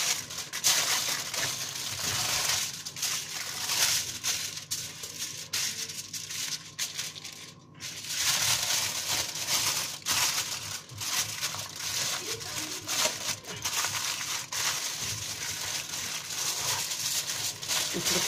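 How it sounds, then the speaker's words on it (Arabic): Aluminium foil being wrapped in a double layer around a piece of meat, with steady crinkling, crushing and rustling close to the microphone that runs continuously, with a short pause partway through. "ونيجي نلفها كده بالفويل"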